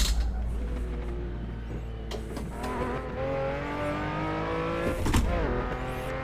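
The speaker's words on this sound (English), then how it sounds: "when you step on that accelerator, this thing goes" An exotic sports car in Assetto Corsa accelerates hard, its engine note rising and falling through gear changes in a steady, loud, close drone, with a couple of brief sharp shifts and tire noise, no talk over it.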